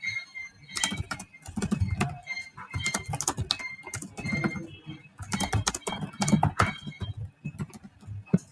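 Code typed on a computer keyboard, with rapid irregular key clicks in bursts and short pauses, close and steady throughout, with no talking.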